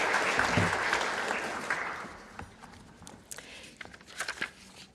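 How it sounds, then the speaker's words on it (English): An audience at a school commencement ceremony applauds after a speech, with loud steady clapping that gradually thins out into scattered individual claps and a few louder nearby claps toward the end. "I'd like to ask everyone to give you another round of applause"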